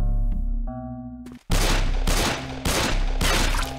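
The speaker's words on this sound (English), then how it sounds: "So we're going to block gunshots." Gunfire in The Happyhills Homicide, a horror video game: a sustained loud rattle of rapid shots after a brief hum, with a few sharp bursts repeating close up and no talking.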